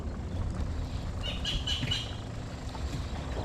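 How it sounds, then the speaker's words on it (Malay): Birds chirp in short clustered calls by a river in a forest, moderately distant over a steady broadband wash of water and ambient noise. "Peringat burung tu bunyi dah."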